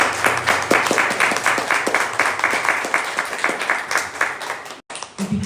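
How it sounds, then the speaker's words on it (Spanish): A church congregation claps steadily after a Spanish-language sermon, a dense rhythmic wash of hands that holds for about five seconds before cutting off abruptly. "dale un fuerte aplauso a Dios"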